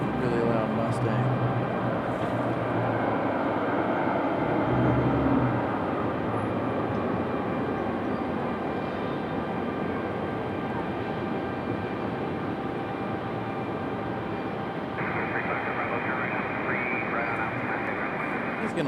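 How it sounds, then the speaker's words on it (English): A very loud Mustang roars steadily at a plane-spotting field near Raleigh-Durham International Airport, its dense engine drone holding for the whole stretch, with a tonal hum shifting partway through and a voice talking over it. "Really loud Mustang."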